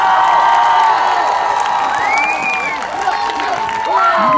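At a summer games event, a large crowd cheers, whoops and shouts continuously for a lip sync contestant, with children's voices rising above the dense, loud roar.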